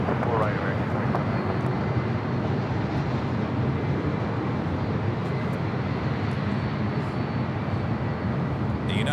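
A United Boeing 757 airliner arriving at Los Angeles LAX airport from Newark, heard as a loud, steady, broadband jet engine roar that holds constant throughout.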